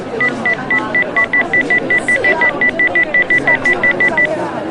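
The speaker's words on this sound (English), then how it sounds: "the computer produced a quick succession of beeps" A passport scanner's computer gives a rapid, evenly spaced run of about two dozen short, loud, high-pitched beeps lasting several seconds, with faint background noise behind them.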